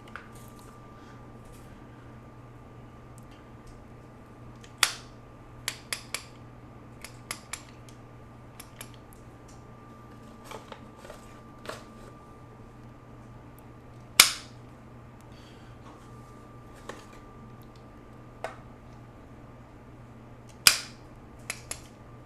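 A cherry pitter punches pits from cherries while a summer salad of burrata, cherries and fava beans is prepared, giving sharp isolated clicks and snaps at irregular intervals over a low steady hum, with quieter soft squishes in between.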